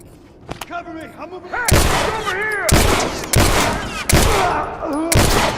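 Gunfire in The Last of Us video game, a sequence of loud sharp shots roughly once a second, each with a ringing tail, following a few quieter clicks and tonal calls.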